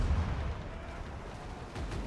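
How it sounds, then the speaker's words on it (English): Cannons on a pirate ship in a video game fire a full broadside salvo, heard as a dense, continuous rumble of low booms with no clear gaps between shots. "I got my cannons locked in, and we're gonna fire a full salvo"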